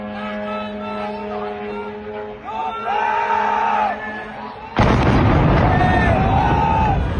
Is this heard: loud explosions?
yes